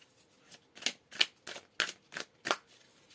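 Tarot cards being shuffled and drawn in quick, crisp riffling bursts, about seven distinct flicks spaced by short pauses, close and fairly quiet with no talking.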